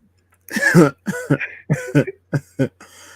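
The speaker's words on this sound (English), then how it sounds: "you know how you feel a cough coming" A single person coughs in a quick burst of several harsh coughs, close and loud, with short gaps between them.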